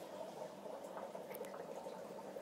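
Dry ice bubbling and fizzing steadily in cold water on a kitchen counter, a continuous close churn of small bubbles with no voices.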